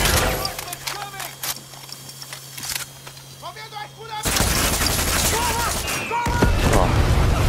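Gunfire in the Far Cry 6 video game, with scattered shots early on, then dense sustained bursts of loud automatic fire, mixed with game sounds.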